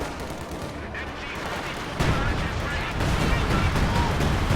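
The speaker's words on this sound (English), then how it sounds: "time on target artillery just got dropped on that Pack 43. I'm not sure if the gun will survive this barrage" Time-on-target artillery barrage in a tank battle video game, a dense continuous roar of overlapping explosions that grows louder midway, with no talk over it.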